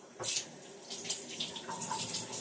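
A pomelo washed under a running kitchen tap, a close, steady hiss of flowing water with shifting splashes as the fruit is turned in the stream.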